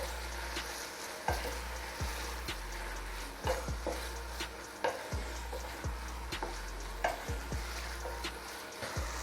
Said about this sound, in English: Then I'll stir this for a while.